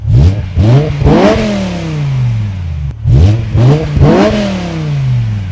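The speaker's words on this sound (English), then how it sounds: "So in this 5-liter V10, it makes 507 horsepower when all of its barriers are dropped." A 5-liter V10 in a BMW E60 M5 revs hard twice in a row, each burst climbing quickly to a high shriek and then falling back to idle. The engine is close and loud, and no voices are heard.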